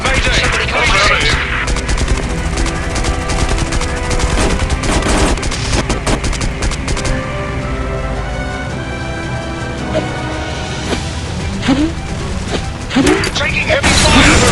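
Rapid machine gun bursts from an aerial combat flight game, loud and dense throughout with booming impacts and game radio voices speaking over the gunfire.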